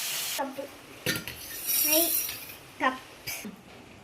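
Crab roast is transferred from a pan onto a plate: a handful of distinct metallic clinks and scrapes of a spoon against cookware, spaced irregularly, with faint voices in the background.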